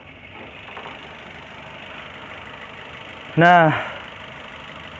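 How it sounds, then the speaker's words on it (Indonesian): A Toyota Rush 1500 cc DOHC 16-valve VVT-i engine idles in a low, steady hum, briefly overlaid by a single short spoken word near the end. "Toyota Rush itu menggunakan mesin DOHC 16 valve EVA VVT-i 1500 cc."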